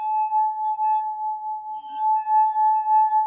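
A drinking glass almost half filled with water rings as a musical instrument, sustaining one clear, steady pure tone that swells and wavers slightly in loudness for several seconds.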